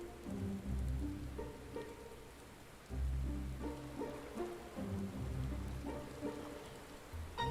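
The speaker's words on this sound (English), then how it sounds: "It's raining." Steady in-game rainfall in Final Fantasy XIV, a continuous wash of drops on surfaces with low rumbling swells, loud and close throughout with no talk.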